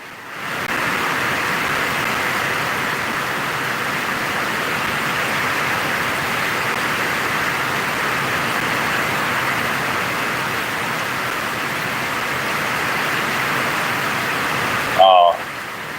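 Steady heavy rain roars loud and continuous over a lake during a storm, a dense broadband wash with a brief scraping knock near the end.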